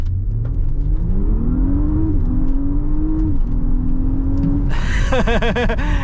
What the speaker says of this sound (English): You're going to knock it into drive, and then you're just going to accelerate.